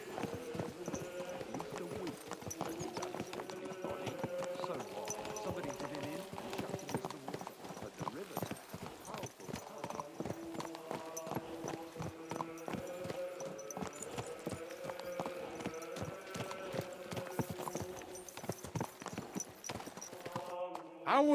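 Horse hooves in a medieval video game, Kingdom Come: Deliverance II, with a steady continuous clip-clop at a walking pace throughout, fairly quiet and close.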